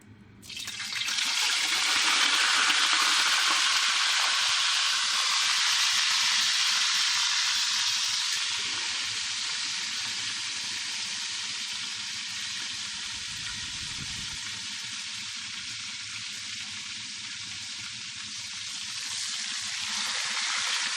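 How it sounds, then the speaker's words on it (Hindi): Meat for degi gosht, already tenderised, frying in a pot with a loud, steady broadband sizzle that holds for about twenty seconds, easing slightly midway and swelling again near the end, with no voices. "अब इसको निकाल कर फ्राई करेंगे"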